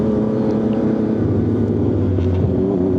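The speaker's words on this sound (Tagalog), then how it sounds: "At may backfire din to dahil full system na po, no?" Triumph-style 675SR motorcycle with a full-system exhaust, a steady loud engine drone with a shifting pitch as revs change, close and continuous with no talking; no distinct backfire pops stand out.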